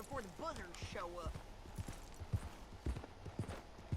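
Horse hooves clip-clopping steadily in Red Dead Redemption 2, a rhythmic series of hoof strikes running under game character dialogue.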